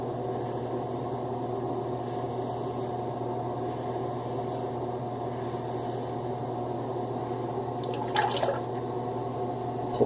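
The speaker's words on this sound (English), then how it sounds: "Cold water rinse on the blade, the razor head." Cold tap water running steadily as a razor head is rinsed during a head shave, a constant close hiss of flowing water with a brief splashing clatter near the end.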